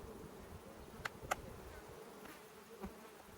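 A small swarm of honey bees hums faintly and steadily at close range, with a couple of brief sharp clicks breaking the quiet buzz.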